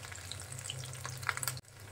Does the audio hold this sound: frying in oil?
yes